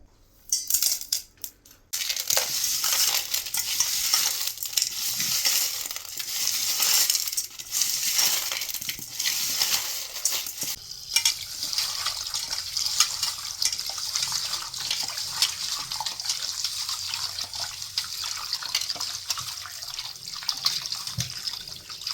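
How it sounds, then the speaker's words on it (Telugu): Cleaned Ramala fish being washed in water with salt: splashing, sloshing and clattering in a bowl, loud and close, with the noisy rubbing and rinsing going on almost without pause. "ఇప్పుడు మనం వీటిని ఉప్పేసి నీట్గా కడిగేసుకొని"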